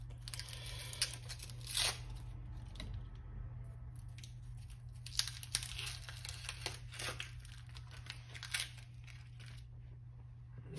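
Onion being peeled by hand in a home kitchen, quiet dry crackles and papery tearing of the skin in short irregular bursts over a low steady hum, close and faint with no talking.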